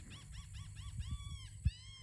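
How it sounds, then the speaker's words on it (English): Repeated high, nasal gull cries in quick succession, fairly clear against a low background rumble, with a thump near the end. "You hear the seagull?"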